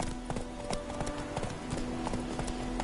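Roach, a horse in The Witcher 3: Wild Hunt, gallops with a steady, loud clip-clop of hooves filling the whole stretch, set against a constant ambient bed with a faint whinny-like tone.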